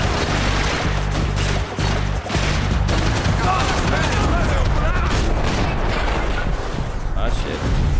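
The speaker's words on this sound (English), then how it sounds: "Now I gotta use the AK." AK rifle fire in a video game, loud dense bursts of gunshots and booms filling the whole stretch over constant rumble, with a person talking over it.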